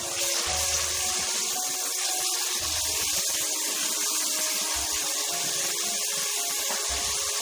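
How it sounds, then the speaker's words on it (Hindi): Water is poured into a pan of masala fish curry with softened chopped onion, making a continuous close splashing and gurgling stream that runs alone for several seconds. "अभी इसमें थोड़ा सा पानी डालेंगे।"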